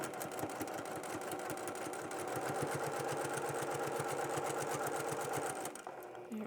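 A sewing machine topstitches fabric in a fast, even run of mechanical needle strokes, close and steady, before stopping near the end.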